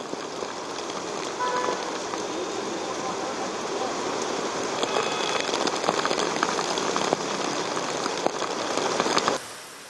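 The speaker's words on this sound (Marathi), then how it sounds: "कलानगर परिसरामध्ये देखील मुसळधार पाऊस कोसळतोय" Heavy monsoon rain pours steadily over Mumbai's Kalanagar area in Bandra, a dense, even hiss of water on surfaces that holds at constant loudness throughout before cutting off abruptly at the end.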